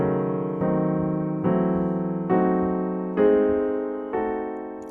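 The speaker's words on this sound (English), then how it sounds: "So I just wanted you to hear it, the entire scale harmonized using locked hands." Piano playing a diminished scale harmonized in locked-hands block chords, six ascending chords struck one after another at an even pace, each ringing and fading before the next, clear and close with no talking.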